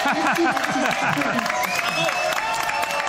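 Studio audience on a French TV game show breaks into applause, clapping mixed with lively music and a host speaking over it, steady and moderately loud.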